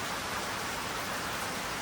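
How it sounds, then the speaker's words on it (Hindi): Heavy night rain in the mountains pours down as a dense, continuous hiss, loud and steady throughout with no voices. "फाइनली बारिश आ गई"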